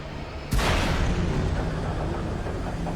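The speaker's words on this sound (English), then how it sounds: "That explosion was epic." An explosion in the video game Alan Wake erupts with a sudden loud blast, then a heavy rumbling roar and debris noise that carries on for a few seconds.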